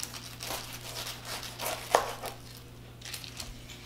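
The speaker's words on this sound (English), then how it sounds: "first you're just gonna cut off the top" A knife cuts the top off a pineapple with a few close, crunchy fibrous slices and one sharper crack, quiet over a low steady hum.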